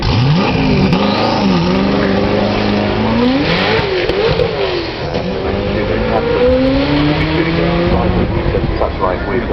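Hennessey Venom supercar engine revving at the Goodwood Festival of Speed, loud rising and falling engine notes with crowd noise and people talking over it.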